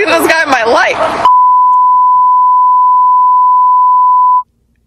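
A long, steady censorship bleep tone rings alone for about three seconds, cutting in sharply right after a burst of speech and ending abruptly.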